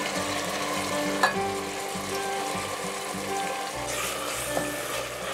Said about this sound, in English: You can see everything is starting to sizzle and bubble.